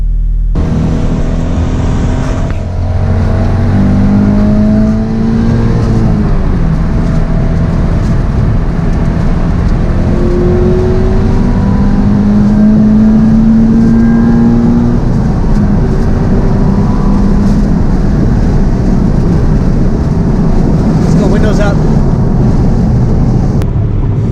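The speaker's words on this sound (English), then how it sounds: "Cruising on the freeway. The exhaust has a very slight hum." Steady road and engine drone from inside a Subaru BRZ with a TOURING86 aftermarket exhaust cruising on a freeway at a constant pace, with a low exhaust hum and wind noise.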